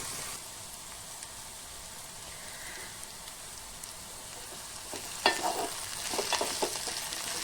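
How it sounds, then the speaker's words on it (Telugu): Okra, potato and beans fry in a pan, a low steady sizzle broken near the end by louder scraping and clattering bursts as they are stirred. "మంచిగా బెండకాయ ఆలుగడ్డ బీన్స్ మంచి ఫ్రై అయింది కదా."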